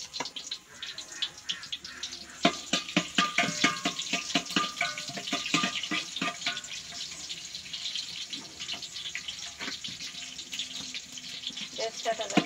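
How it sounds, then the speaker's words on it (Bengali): Sliced onions fry in a pan for chicken pilaf, crackling and sizzling up close in a dense, steady patter of small pops that lasts throughout. "এই যে আমার পেঁয়াজ ভাজি আস্তে আস্তে হয়ে যাচ্ছে।"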